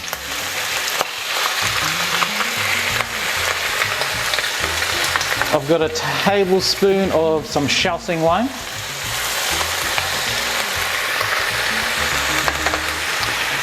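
Steady, loud sizzling of pork belly frying in a hot pan, continuing throughout while a person speaks briefly partway through.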